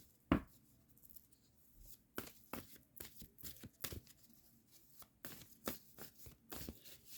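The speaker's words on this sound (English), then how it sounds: "Now I'm going to pull one final card." Tarot cards shuffled and pulled from a deck, giving quiet papery riffles and sharp flicks in scattered bursts, with one crisp snap near the start and softer rustling after.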